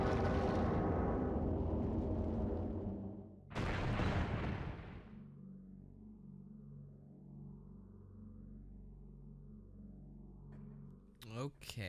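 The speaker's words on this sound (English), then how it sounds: "Let's try shooting just missiles at it and see what happens." In Metroid Prime, a heavy missile blast booms loudly after a sustained rumbling, followed by a low resonant hum and a sharp burst near the end.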